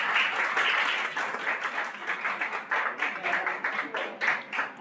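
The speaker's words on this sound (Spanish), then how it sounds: "Un aplauso, por favor." An audience at a talk on the short story gives a sustained round of applause, steady and moderately distant, gradually thinning toward the end.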